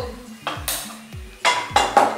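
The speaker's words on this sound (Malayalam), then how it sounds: "അപ്പൊ നമ്മളൊരു കുക്കർ അടുപ്പത്ത് വെച്ചു" A pressure cooker set down on a stove, a few close metallic clanks and clatters at uneven intervals, with a voice speaking faintly in the background.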